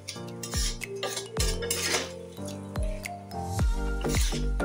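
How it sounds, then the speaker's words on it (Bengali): Soaked rice is mixed with spices, katla fish head and potatoes in a metal pot. A spoon strikes and scrapes the pot with repeated ringing clinks, mixed with wet squishing of the mixture. The sound is close and nobody talks. "এইগুলো আমি মশলা মাছের মাথার আলুর সাথে ভালো করে মিশিয়ে নিচ্ছি"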